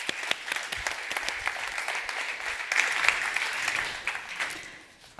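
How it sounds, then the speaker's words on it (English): A conference audience at the Erasmus-Descartes Conference in Rotterdam applauds a speaker, continuous clapping from many people that swells slightly midway, then fades out toward the end. "Please give a warm round of applause for Christophe Aubé."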